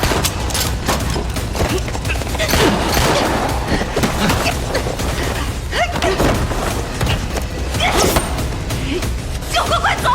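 Rapid gunshots crackle in an action film, dense and loud, in repeated volleys and sharp single cracks over a busy, noisy scene.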